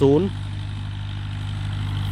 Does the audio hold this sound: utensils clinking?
no